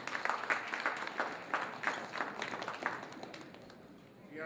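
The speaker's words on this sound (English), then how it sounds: "Please clap for him." An audience applauds a parish priest, Reverend Father Joseph Oji, at a church community convention in New York, with dense, steady clapping of many hands that fades slightly toward the end.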